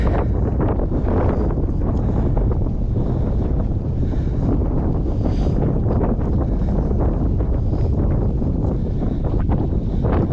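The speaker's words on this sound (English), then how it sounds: "We're walking into the wind." Strong wind gusting across open sand dunes in the Washington scablands, a loud continuous buffeting roar hitting the microphone for the whole stretch with no talk.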